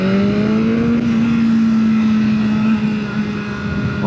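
BMW S1000R 2024 motorcycle engine pulling hard on a test ride, a loud close engine drone whose pitch climbs steadily, then eases slightly near the end, with wind noise under it.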